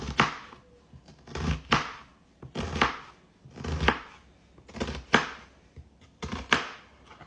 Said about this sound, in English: And now to dice it, I take my knife and I go and I cut, but I don't cut all the way through.